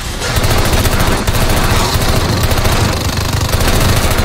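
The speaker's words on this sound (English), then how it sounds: "Hey, stop shooting at me!" Continuous loud gunfire from the Call of Duty video game, dense rapid automatic shots running steadily without a break for the whole stretch, with no voices over it.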